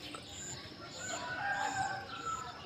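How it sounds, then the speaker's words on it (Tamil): Chickens cluck and a rooster crows faintly in the distance over a steady outdoor hiss of rain, with no one talking. "கோழிலாம் நல்லா கூவிட்டு இருக்குது."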